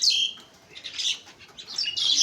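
Small birds in a flock chirp and tweet busily with a flurry of wing flaps as they take off after a crow flies away, calls rising, dipping briefly, then swelling loud again nearby.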